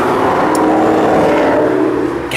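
Traffic on a busy street outside a garage: a loud engine note builds and holds with a revving character, like a car passing close by, ending in a brief higher hiss.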